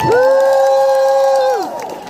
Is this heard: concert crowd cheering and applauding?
yes